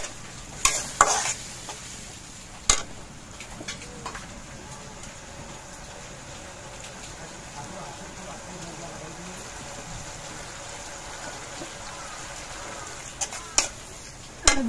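Spice paste with turmeric, a little water and green chilies being stir-fried in a pan. A low, continuous sizzle is broken by sharp spatula scrapes and clacks near the start and end.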